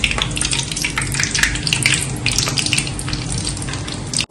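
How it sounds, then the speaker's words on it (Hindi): Thin rolled dough sizzles in hot ghee, a loud, continuous crackling fry with bright bubbling spatter throughout, close up and without talk. "चलें अब इसको गरम घी के अंदर डालते हैं"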